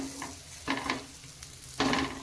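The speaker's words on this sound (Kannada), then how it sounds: "ನಾನು ಎಣ್ಣೆ ಸ್ವಲ್ಪ ಕಮ್ಮಿ ಹಾಕಿ ಫ್ರೈ ಮಾಡ್ತಾಯಿದ್ದೀನಿ" Sweet potato slices frying in a little oil make a soft sizzle in a pan, broken by three brief bursts of stirring or turning, close and fairly quiet with no voices.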